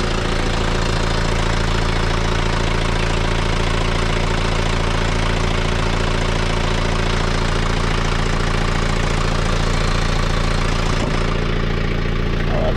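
A John Deere 110 TLB tractor's engine idles at a steady, loud, close drone for the whole stretch, with an even mechanical knock and no voices.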